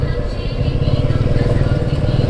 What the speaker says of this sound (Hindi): अतुल भाई की बाइक कुछ वाइब्रेशन कर रही है